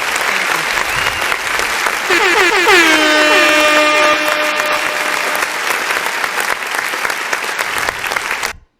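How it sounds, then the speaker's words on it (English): Long, loud applause from an audience on a live show, with whoops and cheers and a drawn-out air horn blast rising and sustaining through the middle, all cutting off sharply at the end. "Ooh, that was a long applause."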